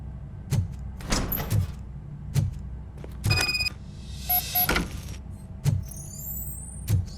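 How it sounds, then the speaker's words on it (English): A door opening in the video game Robocop: Rogue City, with a series of mechanical clunks and sharp thuds spaced through the clip, a brief whirring slide and high electronic tones over a low steady hum. "Now let me get that door open for you."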